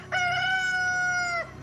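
A rooster crows once in a backyard chicken coop, a single loud, clear, drawn-out call lasting just over a second against quiet background.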